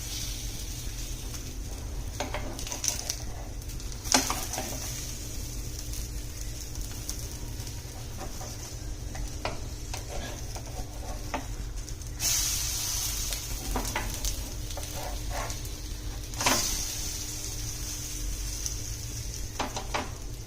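Masala uttapam cooking on a pan over a low gas flame gives a quiet, steady sizzle with a faint hiss, broken by a couple of brief clicks.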